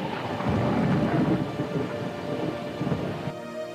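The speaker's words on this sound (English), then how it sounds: "it began to rain" A thunderstorm with rain: low rolling thunder rumbles over a steady wash of falling rain, loud and continuous throughout, with no voices.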